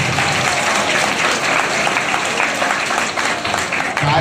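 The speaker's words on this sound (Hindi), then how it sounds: "इनके लिए जोरदार ताली बजाइए" A seminar audience at a Brahma Kumaris centre in Sector 7, Karnal applauds loudly, a dense, steady roar of many hands clapping that holds at full level throughout without a break.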